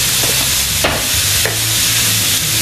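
Ginger and carrot stir-frying for thrice cooked pork, a dense, close sizzle with a couple of sharp scraping stirs, no talk.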